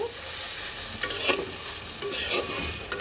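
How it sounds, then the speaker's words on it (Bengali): Kaikala fish with spices frying lightly in a little oil for dopeyaza, a close steady sizzle broken by rhythmic scraping and stirring strokes, with no talking over it. "দুই এক মিনিট আমি এটাকে একটু হালকা ভেজে নেব"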